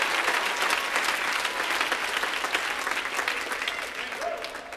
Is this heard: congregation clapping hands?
yes